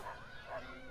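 Dogs yipping and whimpering in the South Park: The Fractured but Whole video game, two short high barks in under a second, fairly faint.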